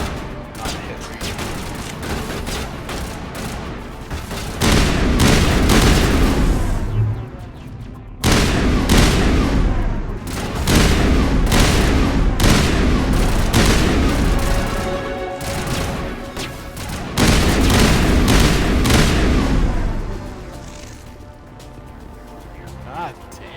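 Heavy game gunfire with chemical rounds in Mass Effect: loud, dense bursts of shots and booming impacts in repeated waves, with short pauses between volleys, under a voice talking over the action.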